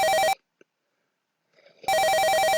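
Electronic telephone ring in the Police Quest video game, two short bursts of loud, bright warbling tone separated by about a second and a half of silence.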